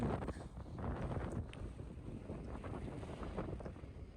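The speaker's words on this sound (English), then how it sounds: "man, it's windy." Strong gusting wind batters the microphone at an Egyptian pyramid, a loud continuous rumbling roar with no talk.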